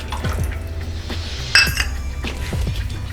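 Tamarind water goes into a pot of cooked bottle gourd and dal for Hyderabadi dalcha, with a short liquid pour among light metal clinks and knocks of utensils against the pot.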